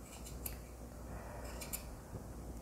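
Scissors snipping punch needle yarn to trim a textured section, faint quiet cuts, a couple of brief crisp snips standing out over low room noise.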